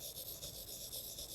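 Samsung S Pen stylus writing on a Galaxy Note 20 Ultra screen, a faint, close, pencil-like scratching with short rhythmic strokes, heard alone.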